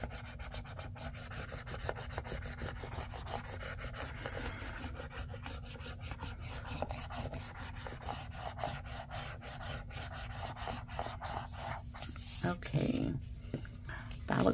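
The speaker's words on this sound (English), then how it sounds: "Okay, and then we'll burnish this down." Rubbing and rasping strokes from burnishing paper down onto a creative journal page, a quiet, close, repetitive scraping that continues steadily, with someone talking softly alongside.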